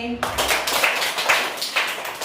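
Steady, rhythmic hand clapping in a school setting during a Kannada action song about alphabet letters: about five sharp, close claps in two seconds, keeping an even beat alongside a voice.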